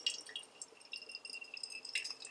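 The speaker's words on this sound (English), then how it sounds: "we are heating up the Chemex, pouring hot water" Hot water is poured into a Chemex coffee maker with a light, bright trickling and splashing that continues steadily at moderate volume.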